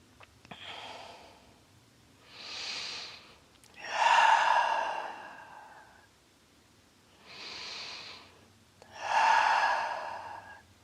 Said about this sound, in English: Take 2 deep breaths.